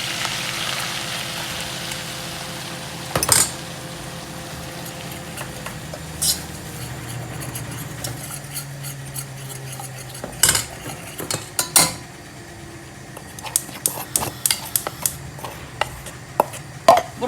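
Butter stirred in a cooking pot with a utensil, giving scraping metallic strokes and scattered clinks against the pot, growing into a quick run of sharp taps toward the end.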